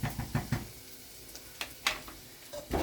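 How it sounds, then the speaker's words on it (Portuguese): Onion and garlic being sautéed in a pan for rice, with faint sizzling, intermittent spoon stirs and knocks against the pan, close and fairly quiet. "Vou dar aquela refogada, que o segredo do arroz aqui soltinho é isso"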